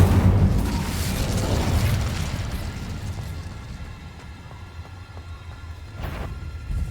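A fire spell is cast in the video game Hogwarts Legacy, opening with a loud rumbling whoosh that slowly fades into a crackling tail, then a faint burst near the end.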